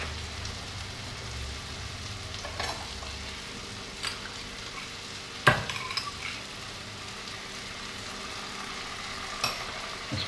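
Capers with a small splash of their juice warming in a hot pan give a soft, steady, rain-like sizzle, with a few faint taps and one sharper clatter midway; no talking.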